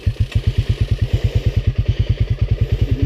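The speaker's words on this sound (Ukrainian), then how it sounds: "Игорек, седай на, на мотор" A motorcycle engine idles close by with a steady, rapid chugging pulse that holds an even rhythm throughout.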